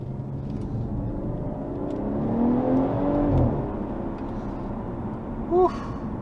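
A 2017 BMW 540i M Sport accelerating from inside the cabin, engine note rising and falling through gear changes as a muted whir and rumble, with a short exhale near the end.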